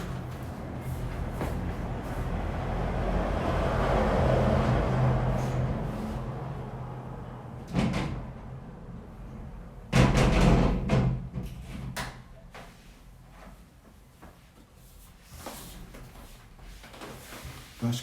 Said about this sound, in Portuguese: eu vou fechar a porta para não ficar tanto barulho aqui dentro